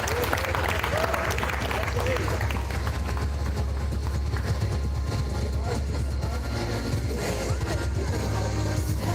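Audience at a live arm wrestling finals event in Sydney applauds in a sustained, loud wash of clapping with crowd noise and some talk mixed in.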